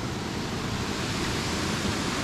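Continuous broadband rush of flowing water in the village of Castle Combe, England, steady and fairly loud with no breaks, like a stream or small waterfall close by.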